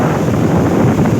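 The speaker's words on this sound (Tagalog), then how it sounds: "malakas ang alon, malakas ang bagyo ng Karina" Strong waves surging onto a sandy beach during Typhoon Karina, a dense continuous roar mixed with heavy wind buffeting the microphone, loud and close.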